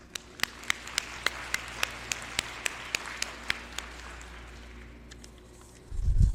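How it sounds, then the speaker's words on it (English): Crowd applause at a scholarship reception: a roomful of clapping with one person's loud, regular claps ringing out near the front, fading after about four seconds, then a low rumble at the very end. "So give yourselves an applause."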